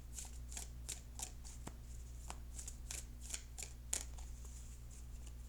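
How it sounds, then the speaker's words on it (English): Tarot cards being shuffled up close, a series of soft riffling snaps at irregular intervals over a faint steady hum, with no one talking. "So let me just shuffle for a few more seconds"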